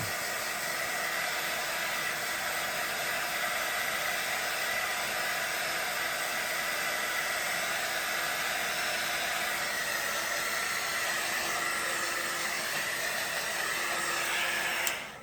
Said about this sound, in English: I'm gonna grab my dryer just to make sure that one there is dry